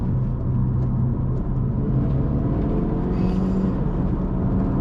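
Steady engine and road rumble from inside a 2017 Chevrolet Cruze LT sedan while driving, a constant low drone with a slight shift in tone partway through and no talking.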